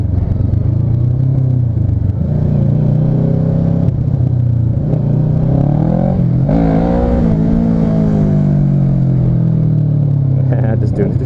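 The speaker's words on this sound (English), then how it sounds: "Trying to do a wheelie in front of their shop." A motorcycle on a ride past a Kawasaki/Yamaha dealership revs hard during a wheelie attempt, its engine rising and falling in loud close pitch sweeps, with talk over the top.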